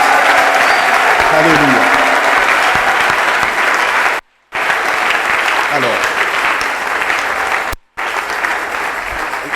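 A church congregation applauds loudly and steadily during a conference sermon, with a preacher speaking over the clapping and two brief cuts to silence.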